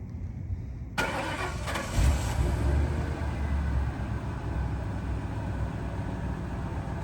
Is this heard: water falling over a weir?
no